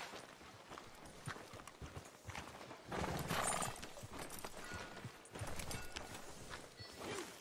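A horse in the Red Dead Redemption 2 video game clops along with irregular hoofbeats, fairly quiet overall, growing heavier in two louder stretches.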